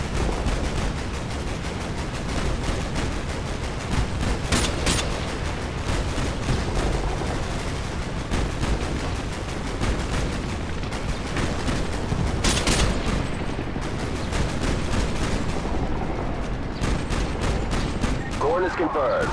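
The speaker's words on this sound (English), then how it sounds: "Ramirez, call artillery on the enemy vehicles." Artillery strike pounding enemy vehicles in Modern Warfare 2, a continuous barrage of booming blasts and rattling gunfire that stays loud and dense for the whole stretch, with heavy impacts near the middle.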